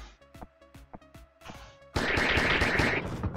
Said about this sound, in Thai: ปล่อยระเบิดแอปเปิลลงมาด้วยนะ